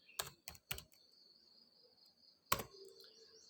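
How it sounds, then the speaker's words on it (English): A few sharp keystrokes on a computer keyboard while entering commands in an Arch Linux terminal to fix GRUB, three quick taps then a single stronger one, close and alone in a quiet room. "Now you type in lsblk again."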